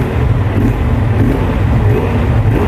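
A 2023 Honda Transalp XL750 motorcycle on its stock exhaust rumbles loudly and close by, holding a steady, throaty engine note with slight rises in revs throughout.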